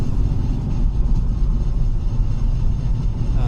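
A BMW E36 328i with a fault runs in a garage with a heavy, steady low rumble and an uneven throb, loud and close, no talking.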